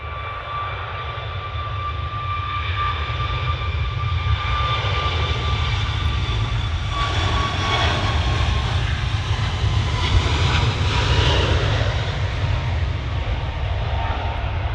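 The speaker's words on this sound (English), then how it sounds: "And then it'll be the Qatari arrival." A Qatar Airways airliner arriving at Manchester Airport roars steadily and loudly, its jet engine noise swelling toward the end with a deep low rumble and a high whine, and no voices.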